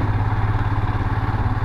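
A motorcycle ridden on a hot mountain road toward Lachen in North Sikkim, its engine thrumming steadily with a low, even pulse, close and loud, with no voices over it.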